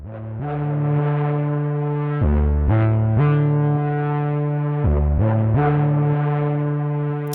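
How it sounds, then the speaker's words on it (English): Buzzy, distorted FM synth tones hold sustained notes that shift pitch in steps, with a gritty, crackly granular texture throughout. "You can hear that you get more like gritty grains in the sound if we increase the speed."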